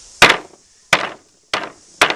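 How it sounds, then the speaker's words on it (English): A hammer strikes a painted styrofoam Halo weapon prop four times, each a sharp, loud, close thwack with a quick decay, spaced at slightly uneven intervals. "Now I'll take a hammer to it."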